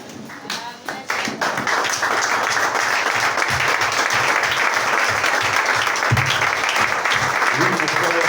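A church congregation applauds and cheers in acclamation of the Lord, with dense sustained clapping mixed with voices filling the room steadily for several seconds after a few scattered opening claps.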